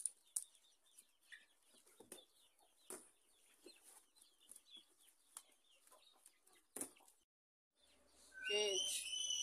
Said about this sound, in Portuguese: olha onde que esse pintinho tá passeando